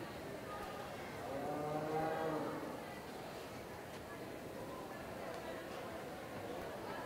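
A steer lows in a drawn-out moo near the start at a youth fair market steer show, heard under a crowd's murmur and a background of chatter.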